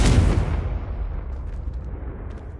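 A Confringo fire spell from Hogwarts Legacy bursts in one loud, sharp explosion that rolls off into a long, fading rumble, with no voices over it.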